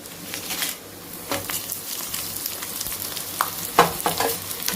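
Dried red chillies roasting in a pan for a raw fig masala fry, a close, soft continuous sizzle broken by a few sharper stirring scrapes and crackles.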